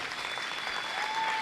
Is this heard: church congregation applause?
yes